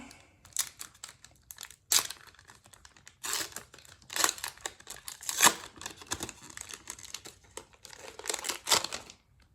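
Foil wrapper of a Match Attax football trading card pack being torn open and crinkled by hand, close and fairly quiet, with bursts of crackling rustle and short rips across the span, no talking.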